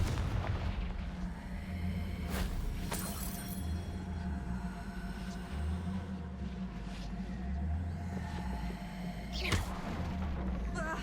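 Confringo fire-spell blasts in the video game Hogwarts Legacy produce a few sharp booming bursts spread across the clip over a steady low rumbling game background, with no talking.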